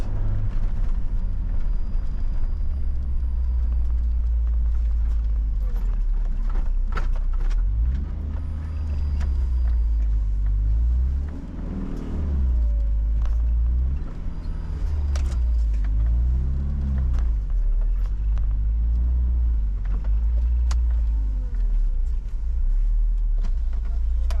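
FSO Polonez, a rear-wheel-drive Polish car, on a test drive, heard from inside as a steady low engine rumble with rising and falling revs through gear changes, loud and continuous with no talk.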